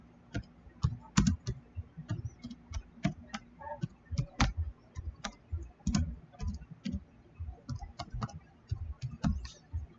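Steady typing on a computer keyboard, irregular quick key clicks throughout, close and fairly quiet with no talking.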